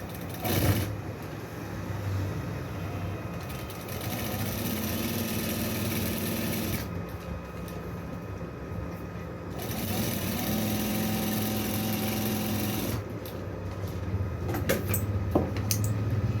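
A sewing machine stitching a magzi-style kurta runs with a continuous mechanical whir that shifts in pace across the clip, close and moderately loud.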